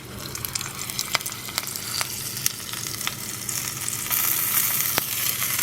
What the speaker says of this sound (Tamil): எண்ணெய் போட்டுட்டு கடுகு போட்டாச்சு